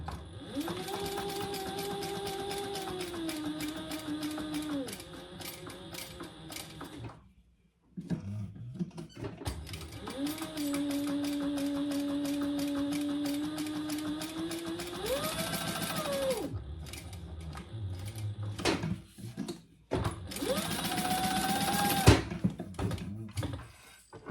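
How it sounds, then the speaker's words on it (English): Sewing machine stitching the pieces of a curved handbag together in bursts, a steady fast whir that runs for several seconds, pauses briefly, then starts again in a shorter final burst, close and clear without talk. "Now I can sew that together."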